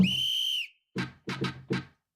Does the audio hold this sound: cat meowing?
no